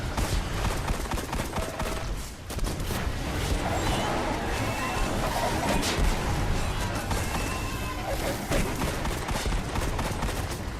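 Rapid, dense grenade explosions and gunfire in a Destiny Rise of Iron firefight, loud and nearly continuous with overlapping blasts and crackling impacts, no talking.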